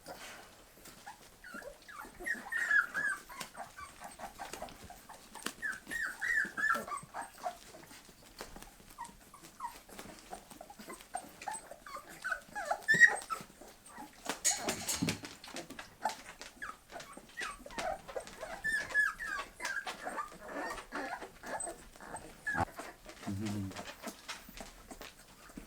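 Bull terrier puppies take their first taste of meat while weaning, giving soft, intermittent whimpers and wet chewing and lapping noises close up, with a person talking now and then.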